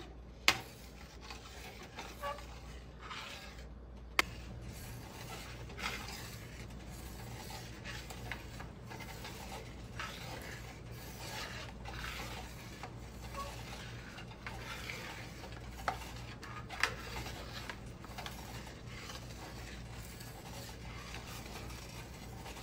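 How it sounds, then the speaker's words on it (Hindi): A spoon scraping and pressing a milk and semolina mixture for makhandi halwa in a pan, a steady soft rubbing rasp with occasional sharp clinks of metal against the pan, quiet and close with no talk. "इस तरह करके गोल गोल चम्मच नहीं चलाना है, ये इस तरह कर करके भूनना है।"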